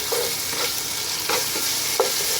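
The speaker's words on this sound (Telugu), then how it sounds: "ఇది పచ్చివాసన పోయే వరకు అయితే ఫ్రై చేసుకుంటాను" Two spoons of ginger garlic paste fry in a pan, giving a dense, loud sizzle with a few scraping stirs over it, close up and with no voices.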